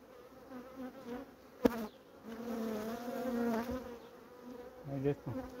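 Honeybees at a small colony buzz close by in soft, wavering drones, with a brief sharp tap early on and faint rustling throughout.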